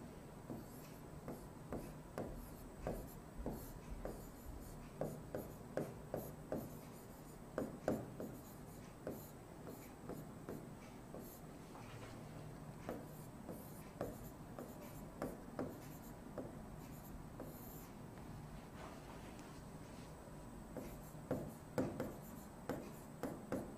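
Marker or chalk writing on a board during a Hindi-language chemistry lesson on aldehyde preparation, repeated short scratchy strokes in bursts at close range, steady background hum, no talking.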